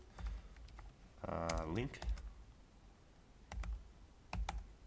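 Keys tapped on a computer keyboard while entering a help command in MATLAB, a few scattered clicks and short bursts at close range, with a voice talking over part of it.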